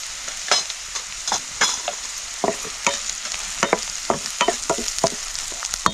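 Onion already well sautéed in a pan with chili powder added, stirred with a spoon that scrapes and clacks in irregular close strokes over a soft continuous sizzle, no voices.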